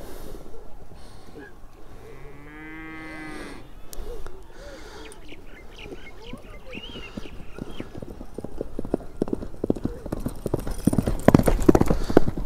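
A horse neighs, then hooves pound faster and louder toward the end as it gallops closer, with a person talking in between.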